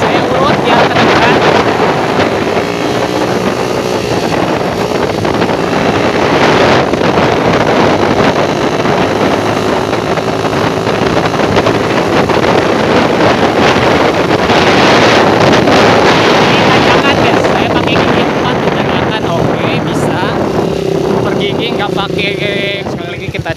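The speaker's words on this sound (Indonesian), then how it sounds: "Nah sekarang saya akan coba agak digas ya. Kita coba agak digas." Motorcycle fitted with a PWK carburetor accelerating on the road, its engine roaring loud and steady under heavy wind buffeting on the microphone, with a rider talking over it.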